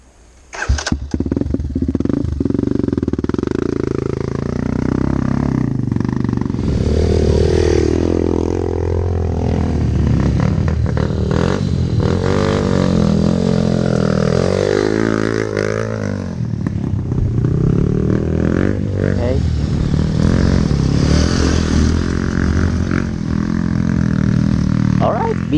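A trail motorcycle roars continuously on a rough off-road mountain route between Pangasinan and Benguet, its engine revving up and down loudly and close for the whole stretch.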